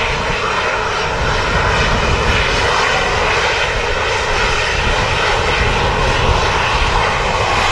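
Ryanair airliner on the runway at Manchester Airport, its jet engines producing a loud, steady, continuous roar that fills the whole stretch without letup.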